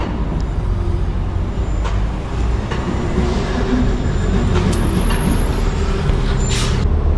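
Inside a Foothill Transit bus on route 295 leaving the Mount SAC Transit Center along Temple Avenue, a loud, constant engine and road rumble fills the cabin, with brief hissing bursts near the end.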